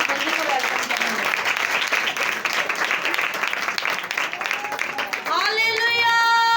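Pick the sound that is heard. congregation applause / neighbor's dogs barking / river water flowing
congregation applause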